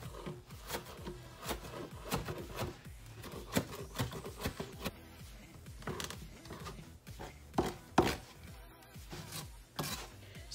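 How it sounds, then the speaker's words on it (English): A knife chops shredded carrots on a cutting board, landing in a quick, uneven series of sharp taps close up, with a few louder strikes near the end. "I'm just gonna give these a chop just to get them smaller"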